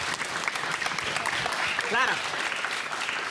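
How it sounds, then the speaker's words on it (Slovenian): Steady applause from an audience cheering a primary school team from OŠ Dušana Bordona Semedela Koper at a Hitri lončki cup-stacking contest, dense and continuous throughout, with a voice briefly speaking over it. "Zaploskajmo jim!"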